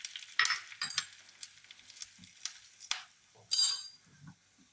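Spices dropped into hot coconut oil and ghee for Onam sadhya kalan curry, giving crackling sizzle bursts with light clinks of utensils, close and moderately loud, no talking.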